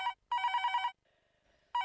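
A telephone bell rings in loud, close, trilling bursts, broken by brief pauses with a fainter tone between them, and nobody speaks.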